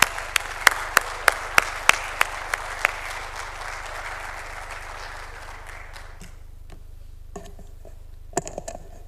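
A conference audience claps, with a few sharp close claps standing out over a dense wash of applause that fades away partway through, leaving quiet with a few scattered claps near the end.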